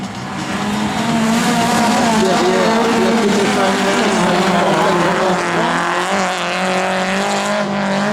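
Autocross race car engines, including a Toyota MR-S, roar continuously and loudly, their pitch rising and falling as cars pass close by, with tire noise mixed in.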